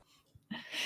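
A short sneeze rises out of quiet breathing and ends in a loud, breathy burst, heard alone and close.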